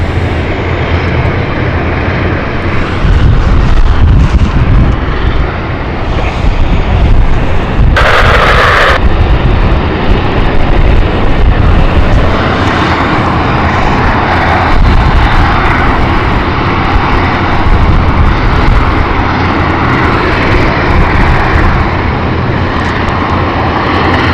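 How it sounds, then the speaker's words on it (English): An airliner on approach to London City Airport from Edinburgh drones loudly overhead, a steady roaring engine noise that swells and holds for the whole stretch with no speech. "We've also got the Edinburgh flight just approaching."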